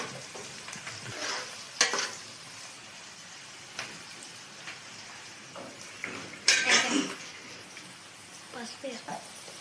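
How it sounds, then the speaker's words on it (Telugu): Onions stirred and fried in a pan for a home-style fish curry, a light sizzle with scraping spoon strokes and a couple of louder clanks of utensil on pan, under a speaking voice. "ఇదంతా తిప్పుకోవాలి, మంచిగా ఇట్లా తిప్పుకోవాలి. ఎర్రగా వేయాలి ఉల్లిగడ్డలు."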